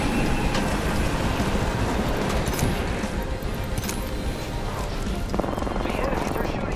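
Continuous rumbling of a moving train in the video game Apex Legends, loud and steady, with clattering and occasional gunfire-like bursts mixed in, and a voice speaking over it.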